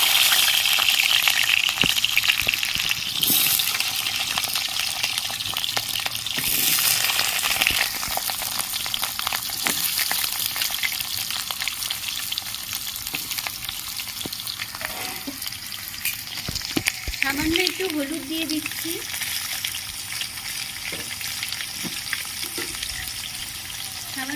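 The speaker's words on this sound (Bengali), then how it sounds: "কড়াইয়ের তেল গরম হয়ে গেছে আমি আলুগুলো দিয়ে দিচ্ছি" Potatoes frying in hot oil in a wok for a home-style soybean curry give off a loud, steady sizzle that runs unbroken throughout, with faint stirring scrapes, and no one talks.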